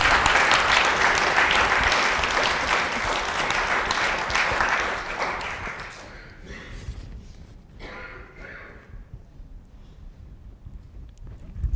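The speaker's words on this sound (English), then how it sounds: "you can applaud now" Audience applause at a college student symposium, loud dense clapping for about six seconds that thins out and fades, leaving scattered claps and quiet room noise.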